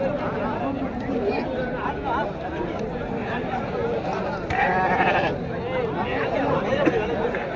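Sheep bleat at a sheep market in Kambainallur, several calls rising over a busy crowd of chatter, with one louder bleat standing out midway and people talking throughout.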